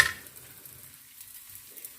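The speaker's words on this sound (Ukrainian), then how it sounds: "Сало підсмажується" Quiet, soft sizzling of pork fat frying in a pan, faint and steady after a brief louder burst at the start.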